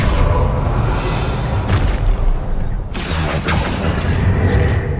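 Explosive blast spell in Hogwarts Legacy, a loud booming burst with rumble that rolls on through the clip, a second whooshing impact about three seconds in, with a voice speaking over it.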